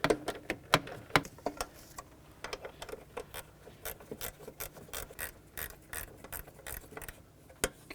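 A ratchet loosens a 12mm bolt behind the throttle body of a 2004-2010 Toyota Highlander, giving quiet, close, irregular bursts of sharp clicks with brief pauses between them.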